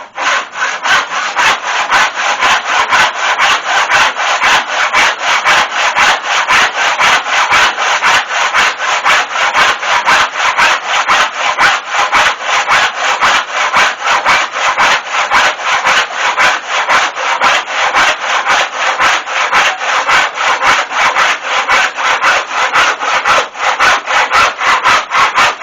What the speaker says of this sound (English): it lets the camper concentrate strictly on pushing the saw